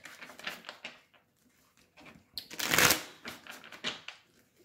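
Oracle cards being shuffled by hand in a quiet room: close, dry papery riffles and rustles in uneven bursts, with one louder, longer flurry near the middle.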